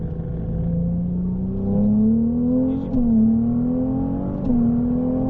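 Ferrari 298 GTB with 820 horsepower accelerating on the La Ferté-Gaucher race circuit, the engine note climbing steadily with a brief dip at a gear change, loud and close throughout.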